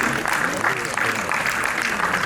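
Audience at a cultural conference session applauding a speaker's introduction, steady clapping from a seated crowd with a voice talking over it.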